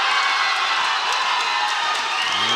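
A big arena crowd cheers and roars steadily at a taekwondo match at the Pacific Games, a loud, sustained wash of voices and whoops without a break.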